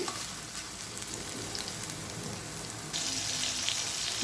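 Ridge gourd pieces frying in hot oil for a chutney, a steady close sizzle that grows slightly louder partway through, with no talking.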